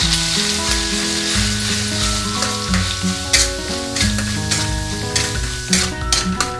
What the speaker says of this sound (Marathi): आता आपलं तेल गरम झालेले, आता आपण वाटलेला काळा मसाला घालूया। मिक्स करून घ्यायचा।